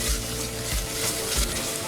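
Red miso paste being stirred into sizzling onions and garlic in a pan, a close, continuous sizzle with soft scraping stirs and no talk.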